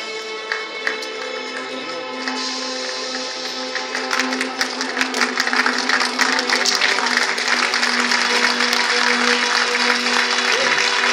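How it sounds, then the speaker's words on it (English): A film festival audience at the 2013 Bengaluru International Film Festival awards applauds. Clapping starts sparse, then builds into dense, sustained applause over a steady background hum. "Let me take a shot of you applauding."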